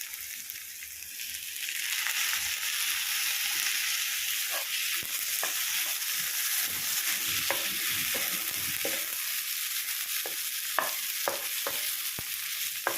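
Chopped tomato frying in a pan for pav bhaji, a steady close sizzle with repeated scraping strokes of a spoon stirring through it, no voices.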